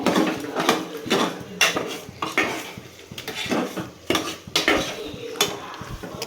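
Metal spoon scraping and clinking around a pan while gravy is stirred, a busy run of irregular clatters and scrapes, close and fairly loud with no talking.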